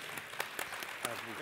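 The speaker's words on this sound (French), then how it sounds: "il mérite une bonne main d'applaudissements" Brief applause from an audience at a staged talk, with a few distinct claps in a short burst heard under a person speaking.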